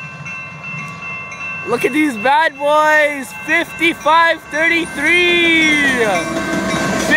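A westbound CN freight train with two lead engines, numbers 5533 and 2462, passes on the Halton subdivision, sounding its horn in loud, close blasts of varying length over rumbling rail noise, with someone briefly speaking.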